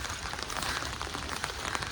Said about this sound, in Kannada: ಸ್ವಲ್ಪ ಜೋರು ಬರ್ತಾ ಇದೆ ಮಳೆ ಇವಾಗ